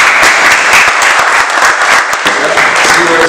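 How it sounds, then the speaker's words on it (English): A live crowd at a hip-hop tour stop claps loudly for a new artist, with dense, close applause and some sharper individual claps, and a few shouts and voices mixed in near the end. "Clap it up."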